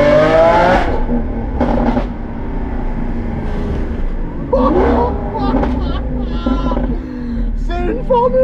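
A Lamborghini fitted with a straight-pipe exhaust revs loudly in several bursts, with deep roaring rises and crackling spikes close by, separated by a lower idle rumble.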